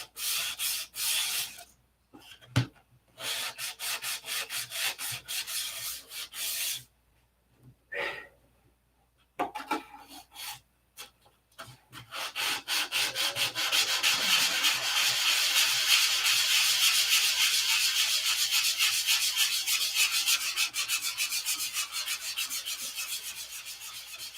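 Hand sanding of putty fillets on wood, rhythmic rasping strokes, choppy and broken at first, then a long continuous steady scrubbing, close and clear with no talk.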